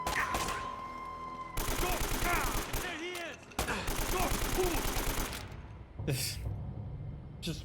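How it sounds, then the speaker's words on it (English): Gunfire from shooting enemies in the video game Uncharted: Drake's Fortune, with loud rapid bursts and single shots arriving in clusters under ongoing game noise, broken by brief lulls. "Just whipping around 180 while I shoot him."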